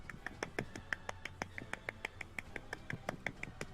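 Small, quick hand claps in a steady, even rhythm, about twenty light, thin pats, close and soft with nothing else over them.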